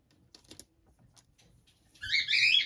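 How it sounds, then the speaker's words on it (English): Birds squabbling erupt in a loud, dense burst of shrill chattering calls near the end, following a quieter stretch of faint indoor sounds. "now the birds are fighting"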